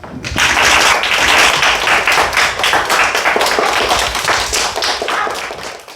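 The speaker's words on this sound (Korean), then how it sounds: "자, 친구들 박수." A class of students claps together in a classroom, a dense, steady burst of many hands close by that holds for about six seconds before tapering off.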